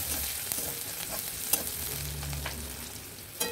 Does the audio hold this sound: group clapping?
no